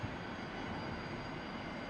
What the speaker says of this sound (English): Left engine is spooling up.